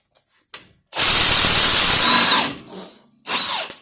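A power tool removes the lower control arm bolts on a Jeep TJ front suspension: a short blip, then a loud, close, sustained whirring burst lasting about a second and a half, followed by another burst starting at the end.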